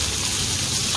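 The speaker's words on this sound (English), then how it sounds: "So you hear the sizzle now." Onions and peppers sizzling in hot oil in a pan, a dense, steady hiss with no pauses, loud and close.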